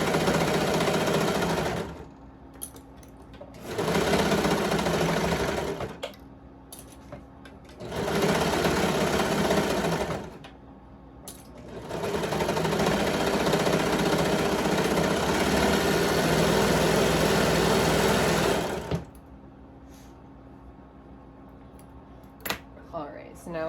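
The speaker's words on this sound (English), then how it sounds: "So I just sew them back together." A sewing machine stitches fabric pieces back together in four long, steady runs separated by short pauses, close and loud, with a few small clinks between runs.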